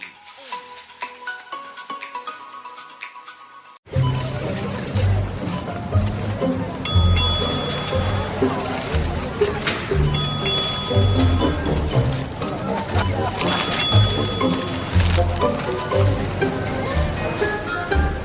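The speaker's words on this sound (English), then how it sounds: "What's that ding-ding noise?" Electronic ding-ding chimes in a store as customers collect points from a frequent shopper program. Several bright chimes ring out a few seconds apart over busy background music and crowd noise.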